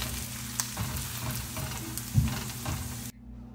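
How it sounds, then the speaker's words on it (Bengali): Garlic frying in hot oil for a Bangladeshi broccoli mash, turning reddish-golden: a steady close sizzle with small bursts of crackle and a few stirring knocks, then cutting off abruptly near the end. "রসুনটা লালচে করে ভেজে বেরেস্তা করে নিব।"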